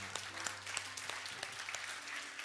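Worshippers at a church service in Seoul give a short, faint round of applause, scattered claps heard softly at a distance for a couple of seconds.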